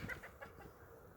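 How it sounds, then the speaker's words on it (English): Chickens cluck softly nearby in a garden, a few short, quiet clucks over faint outdoor background noise. "These chickens just won't let me be great."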